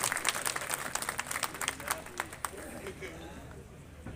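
A crowd claps at a temple ceremony at Anjani Lal temple in Biaora. Dense, close applause rises in uneven bursts, then thins out toward the end, with faint crowd murmur mixed in.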